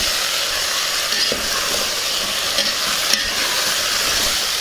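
Chopped vegetables stirred in a pot for a traditional mixed vegetable rice dish, a loud steady hiss of frying with a few faint utensil knocks, no talking.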